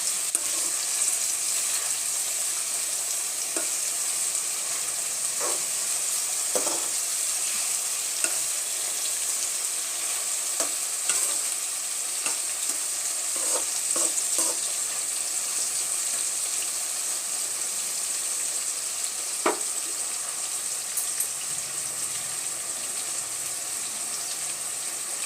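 Long strips of brinjal (eggplant) frying in oil for brinjal rice, a bright continuous sizzle with scattered pops and occasional stirring clicks throughout.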